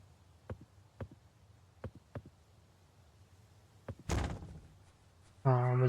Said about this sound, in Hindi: हाँ मुझे पता था, दरवाजा बंद हो गया